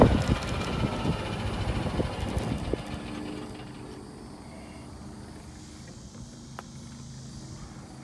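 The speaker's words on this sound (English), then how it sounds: "Wind in my face" Wind gusts across an open golf course, a broad rushing roar that is strongest at the start, then eases into a steadier, quieter outdoor hiss.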